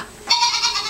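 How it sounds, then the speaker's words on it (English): A goat bleat from a children's farm animal sound book, a single loud, wavering bleat of under a second that starts abruptly and holds steady before fading, with no talking over it. "Goat. You see goat?"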